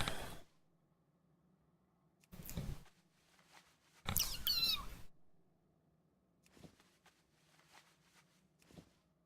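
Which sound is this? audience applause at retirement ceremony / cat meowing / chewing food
cat meowing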